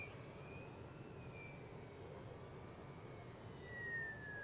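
An FMS Sky Trainer 182 V2 RC model Cessna flies slow and low, giving a faint, steady electric motor whine with thin rising and falling pitch sweeps as it passes, over a constant background hush.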